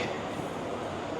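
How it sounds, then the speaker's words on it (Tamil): A train at a railway station in Sungai Petani, Malaysia, gives a dense, continuous rumble and clatter of rolling wheels and machinery. The sound is loud and steady, close by, and holds at the same level throughout. "ட்ரெயின் ஸ்டேஷனில் பூந்தாச்சு."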